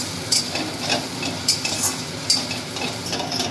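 Kharkol leaf paste fries in a pan over low to medium flame as a spoon stirs it, giving a soft steady sizzle punctuated by several sharp scrapes and clinks of utensil against metal, close and fairly loud.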